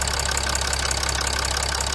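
A Chrysler 300C engine idles while warming up, giving a steady, close mechanical drone with a fast regular ticking pulse, alone without voices.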